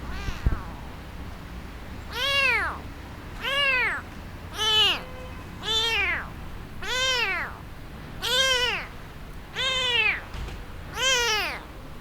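A sick blind kitten cries over and over, about eight plaintive, rising-and-falling meows spaced at a steady rhythm, close and clear against a quiet background.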